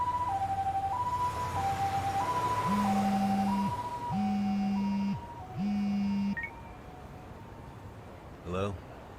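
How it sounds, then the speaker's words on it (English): Ambulance siren in the Lost Judgment video game, a loud two-tone wail alternating steadily, later joined by sustained horn-like blasts in three bursts, ending with a short clattering sound. "Can you get an ambulance over to your bar right away?"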